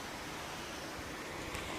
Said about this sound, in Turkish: Bak şurada da şelalesi var.